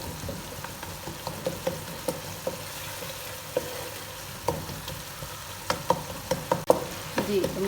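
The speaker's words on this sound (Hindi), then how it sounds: "यहाँ मसाले की अच्छी तरह से भुनाई कर लेनी है।" Spices and mashed tomatoes fry in oil in a pan for a vegetable pulao, giving a steady low sizzle broken by frequent scraping stirs and soft taps of a spoon, close and fairly quiet.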